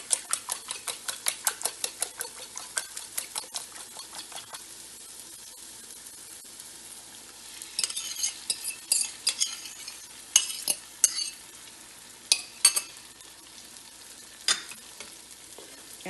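Beaten eggs fry with onion in a pan for spiced Pakistani scrambled eggs, under a steady sizzle. A rapid run of utensil clicks and scrapes against the pan comes first, then scattered stirring knocks, close and alone.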